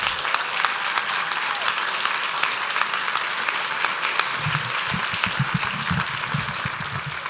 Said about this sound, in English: Please,